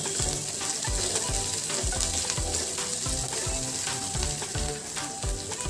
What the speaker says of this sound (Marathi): आता मी इथे थोडंसं आलं घेतलेलं आहे बारीक चिरून, ते टाकूया. व हे व्यवस्थित आपण तेलावरती